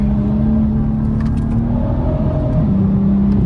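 A BMW M2 F87 drives along with a steady, loud engine drone and low rumble, a constant tone holding throughout with no voices.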